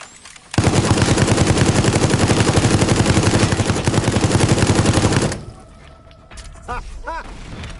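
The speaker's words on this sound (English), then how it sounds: "she's got that machine gun" Machine gun fire in the video game Resident Evil Resistance, a loud, sustained rapid burst of evenly spaced shots lasting several seconds, then stopping abruptly as quieter game sounds and faint voices follow.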